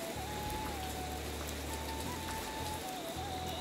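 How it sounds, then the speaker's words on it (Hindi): Steady rain patters on a surface in Arunachal Pradesh, with a continuous hiss and a faint low hum beneath it. "बारिश"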